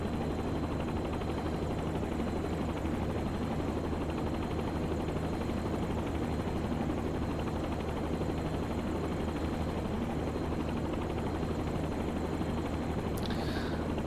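Helicopter in a flight simulator game, a steady dense rotor and engine drone that runs unbroken and fairly loud throughout, with a brief high hiss near the end.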